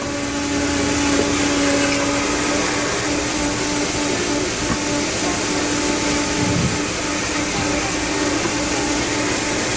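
A Vita-Mix blender churning a frozen green smoothie, a loud continuous motor whine with a steady drone and grinding rumble throughout, no talking.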